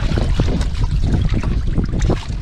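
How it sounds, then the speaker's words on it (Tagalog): Strong wind at sea blowing across a fishing boat's microphone, heavy low rumbling buffets and gusts mixed with splashing waves, loud and close with no speech. "Uy, lakas ng hangin mga idol."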